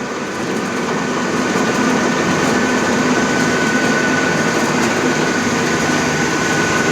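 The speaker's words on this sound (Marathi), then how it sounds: "शेवाळ्या बनवायची मशीन." Shevaya vermicelli making machine running with a steady, loud mechanical drone and hum, unbroken throughout with no talking.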